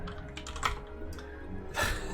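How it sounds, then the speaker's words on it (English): Rapid clicking keystrokes on a computer keyboard, fairly faint and continuous, with a brief louder flurry near the end and no talking. "But Philip contributed the keyboard that I'm using right now"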